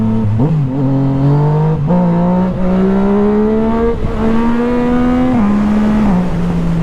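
A 1000RR sport motorcycle accelerates hard in second gear while doing a wheelie, its engine note climbing steadily and loudly close up in one sustained rising pull, broken by brief shifts in pitch.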